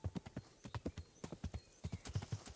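Horse hooves in the video game Kingdom Come: Deliverance trot in a quick, even clip-clop, steady and fairly close, with no voices.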